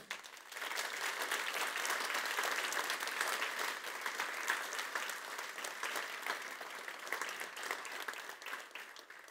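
Warm, sustained applause from a conference audience thanking the DevQuest team and volunteers, steady clapping filling the room for several seconds before gradually thinning.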